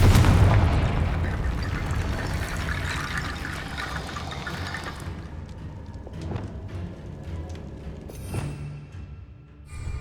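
A Confringo blasting spell explodes in Hogwarts Legacy inside a mine, opening with a heavy rumbling burst that slowly dies away, followed by scattered thuds and rattling debris.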